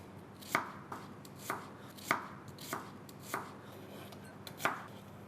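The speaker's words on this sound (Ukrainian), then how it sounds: "поки нарізаю тонкими напівкільцями цибульку" A knife slices an onion into thin half-rings on a board in regular strokes, about one every half second, crisp and close with no talking.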